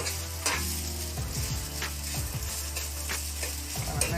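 Eggs and rehydrated dehydrated potatoes scrambled in a frying pan, with a steady sizzle under repeated scraping stirs of a utensil, close up and without talk.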